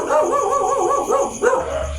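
Dogs bark and yip in a quick, wavering series on a nighttime CCTV recording. The calls sound fairly close and loud against a low background hum.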